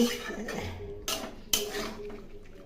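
Mutton pieces being fried and stirred in a pot with spices for a curry, with a steady sizzle broken by two sharp metallic clanks of a spoon against the pot.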